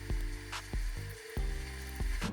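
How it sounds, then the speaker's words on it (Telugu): Cucumber (dosakaya) is chopped into pieces by hand for a Telangana-style chutney. A handful of crisp, close knife strikes come at an irregular pace over a constant low background hum. "పెట్టుకుని ఇట్లా దోసకాయ ముక్కలు కోసుకోవాలి."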